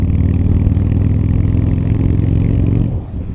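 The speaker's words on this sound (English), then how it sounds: "The third thing that also is still very appealing to me is the way the bike sounds." A Harley-Davidson Fat Boy motorcycle engine runs close and loud with a deep, steady rumble, then eases off slightly near the end.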